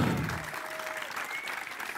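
Festival audience applauding the host of Limburg Festival, a dense steady wash of many hands clapping close and loud throughout, with a faint tone sliding underneath.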